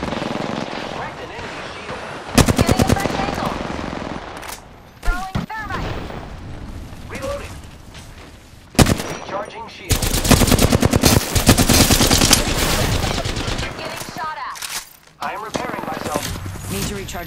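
Gunfire in Apex Legends comes in loud, close bursts of rapid automatic shots, broken by brief pauses, while in-game voice callouts speak over the shooting.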